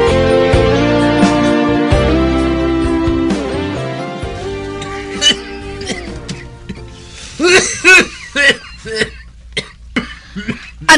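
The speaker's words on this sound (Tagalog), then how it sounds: "Ano bala inang ubo mo," Several sharp, bursty coughs in a row, loud and close, following a stretch of sustained voiced sound.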